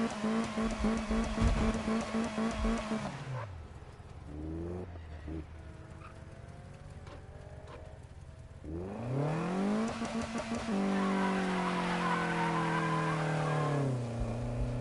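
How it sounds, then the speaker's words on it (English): A car in an old Need For Speed video game does second-gear burnouts: a revving engine under long, shrill tire squeals, a brief drop to a lower idle, then another loud sustained screech of spinning tires. "Does impressive second gear burnouts."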